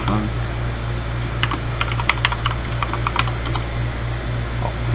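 Keys clatter on a computer keyboard as a terminal command is typed, with quick irregular bursts of clicks over a steady low fan hum.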